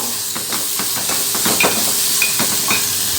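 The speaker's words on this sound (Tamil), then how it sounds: "வெங்காயம் கொஞ்சம் வதங்கி வரட்டும்" Chopped onions with salt sizzle and hiss steadily in a hot pan on a stove while being cooked for a South Indian tiffin dish, with light crackles and occasional scrapes over a continuous steamy wash.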